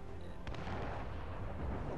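An explosive ship cannon shot in the video game Assassin's Creed Rogue gives a deep, rumbling boom that rolls on as a low, distant-sounding blast over a steady background, with no speech.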